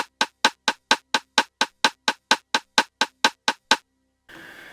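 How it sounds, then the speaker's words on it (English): Sharp, dry rimshot clicks from a Roland TR-707 drum machine, soloed, repeating in a steady rapid pulse of about sixteen even hits, then stopping before a short burst of hiss. "let me lower the volume of all the other instruments so you can hear the rimshot by itself."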